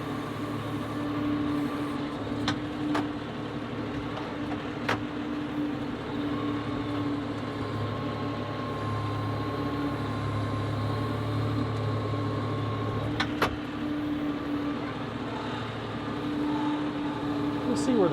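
A John Deere 5075E tractor runs in A range in a mucky pond, its steady engine drone holding at a constant level throughout, with a few faint clicks over the hum.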